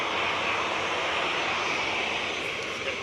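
Jet engines of a Boeing 737-800 at Manchester Airport give a steady, dense roar, fairly close and unbroken for a few seconds.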